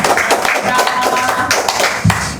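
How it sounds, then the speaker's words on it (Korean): A church congregation gives a warm round of applause to welcome a pastor, a steady wash of clapping with a voice speaking over it throughout. "박수로 환영의 박수 한번 쳐주시고요"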